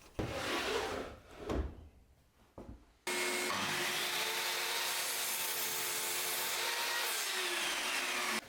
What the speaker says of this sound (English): first I'm going to get it cut down to length using the miter saw